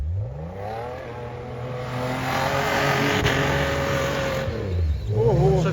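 A Lada Niva drives up with a steady engine drone that swells gradually as it approaches, the revs shifting slightly near the end, loud and close with no talk.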